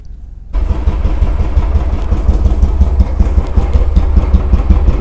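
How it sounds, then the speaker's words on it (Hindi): A Royal Enfield Bullet motorcycle with a bend-pipe exhaust starts up and settles into a loud, close idle, a steady deep thumping beat from the exhaust that continues for several seconds with no speech. "पहले हम करते हैं बुलेट की साउंड टेस्ट।"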